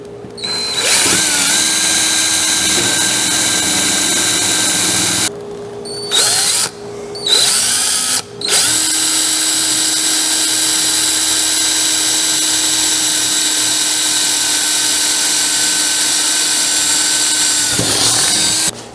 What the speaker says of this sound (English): Got to put a hole in this thing so we can put a bolt through.